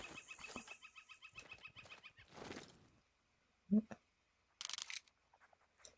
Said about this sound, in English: I just killed and shot like several turkeys and they just don't care!